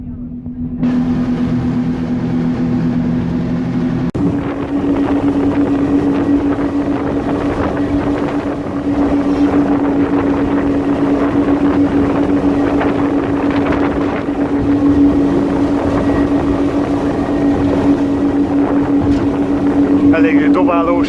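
Motorboat bouncing over big Indian Ocean waves off Malé in the Maldives, its engine droning steadily and loud throughout with heavy wind buffeting the microphone; voices talk over the roar.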